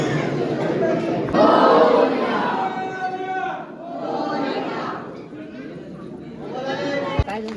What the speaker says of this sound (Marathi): गर्दी आहे ना त्याच्यामुळे